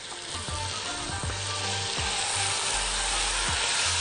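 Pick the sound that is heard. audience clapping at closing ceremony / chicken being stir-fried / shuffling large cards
chicken being stir-fried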